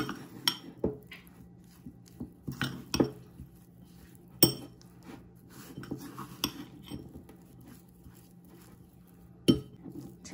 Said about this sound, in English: Just gonna mix this steak with 1 tablespoon of cornstarch.